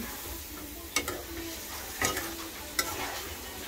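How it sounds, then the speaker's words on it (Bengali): Eggplant, potato and tomato sautéing in a pan, a soft continuous sizzle broken by three sharp scrapes of a spatula stirring, close and fairly quiet. "এবার দিয়া দিলাম বেগুন আলু টমেটো দিয়ে কষাইছি"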